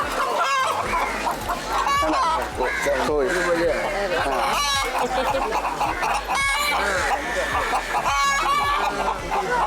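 Chickens cluck repeatedly and a rooster crows among them, a busy, dense flock close by with a voice talking over the noise.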